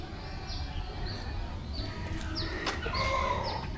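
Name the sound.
chickens clucking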